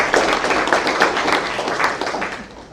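Audience at a Forest and Bird evening talk clapping for a speaker introduced to discuss the matuku, or bittern: dense, fairly loud clapping from a room of people, tapering off near the end.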